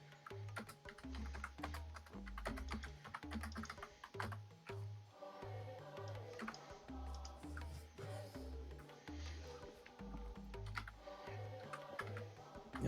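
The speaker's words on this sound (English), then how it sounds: "It's scary when you hear that much typing from the DM" Rapid, busy clatter of a computer keyboard as a game master types steadily, many close, quick key taps in uneven bursts with no one speaking.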